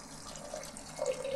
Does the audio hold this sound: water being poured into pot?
yes